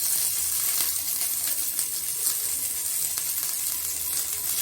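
Curry leaves fry in hot oil with garlic and seasoning seeds in an AMC cookware pot, giving a steady, loud, even sizzle that hisses on without pause.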